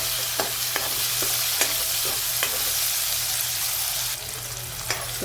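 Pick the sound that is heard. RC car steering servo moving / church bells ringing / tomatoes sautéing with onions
tomatoes sautéing with onions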